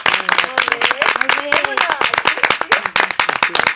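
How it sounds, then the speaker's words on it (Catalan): An audience claps and applauds for musicians after a storytelling performance, a dense burst of clapping mixed with a voice talking over it. "Un aplaudiment per aquests músics tan fantàstics"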